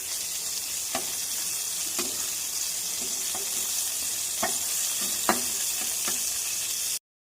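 Brinjal slices fry in oil in a pan over medium gas, a steady hissing sizzle broken by several soft clicks and taps as the pieces are turned.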